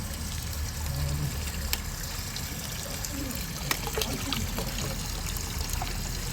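Water trickling and splashing steadily through a pond filter and skimmer at a tench pond, a soft continuous flow with a few small plops and faint background noise.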